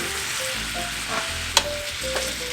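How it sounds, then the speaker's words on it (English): Sausage browning in a brand-new pan, a steady close sizzle and crackle with a wooden spoon scraping and knocking against the pan now and then. "just make sure that you really brown your sausage"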